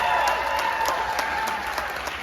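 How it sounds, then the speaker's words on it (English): Audience applause at a David Lynch film festival event at the Music Box theater, a dense steady wash of clapping from a large crowd, loud and continuous with no talk over it. "Let's have a round of applause for Scott Ryan."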